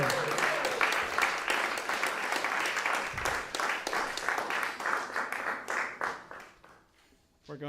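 Audience applause at a folk concert: a steady wash of dense clapping from a crowd, sustained for several seconds before thinning into scattered claps and fading near the end.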